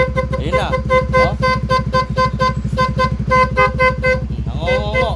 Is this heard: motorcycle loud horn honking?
yes